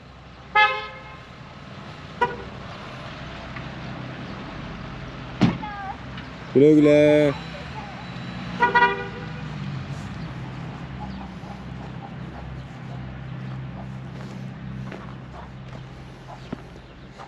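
A car arriving near a hobby chicken coop in Taşköprü, Kastamonu, sounds a short honk amid clucking hens and a rooster, with a few other brief toots and people talking over steady outdoor background.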